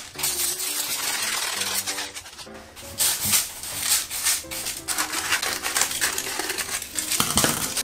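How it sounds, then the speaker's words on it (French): Dried legumes or coarse salt poured into a pastry tart shell as baking weights, giving a dense rattling patter of small hard grains that lasts several seconds, with a tonal background running beneath. "Et là, vous pouvez utiliser du gros sel par exemple, ou du riz, ou des pois,"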